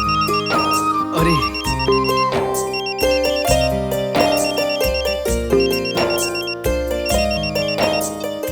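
A mobile phone rings with an incoming call, playing a bright, repeating melodic ringtone in steady looping phrases, loud and alone with no voices.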